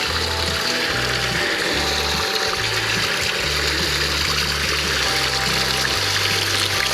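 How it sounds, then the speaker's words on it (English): A small creek runs steadily near a camp spot in Chiricahua National Monument, Arizona, making a constant close rushing and trickling wash with a low droning hum underneath. "It's actually running a lot more than what we saw from the road."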